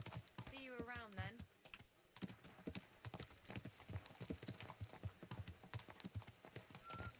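Horse hooves clip-clopping at a steady walking rhythm in the medieval video game Kingdom Come: Deliverance II, close and continuous, with a brief horse whinny at the start and someone talking at moments.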